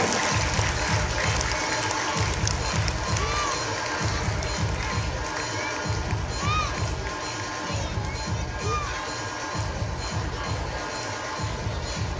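Loud sustained applause and cheering from the audience at a primary school annual gathering, with children shouting over continuous clapping and crowd noise throughout.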